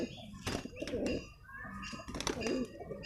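Soft, low cooing of pigeons in repeated throaty bursts, close by, with faint background chatter and a few higher bird notes.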